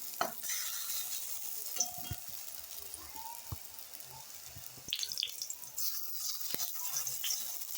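Pointed gourd leaves frying a few at a time in hot oil, a faint, steady hiss with occasional soft bubbling bursts and light spatula touches, no talk over it.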